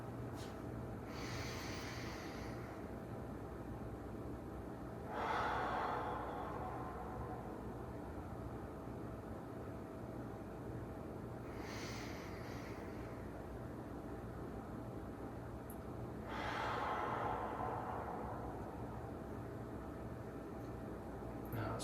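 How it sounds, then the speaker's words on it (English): Slow, deep breaths during a guided lung-breathing exercise, a few long airy inhales and exhales spaced several seconds apart, close and soft against a steady hum. "Really breathe into that right lung."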